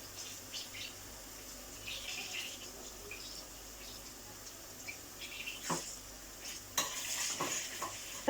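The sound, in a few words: garlic sautéing in melted butter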